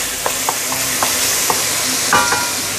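Tomato and big onion stir-fry in hot oil, a loud steady sizzle running throughout with a few light spatula taps and scrapes spaced across the short stretch.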